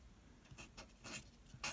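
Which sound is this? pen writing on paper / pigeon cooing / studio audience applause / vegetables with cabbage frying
pen writing on paper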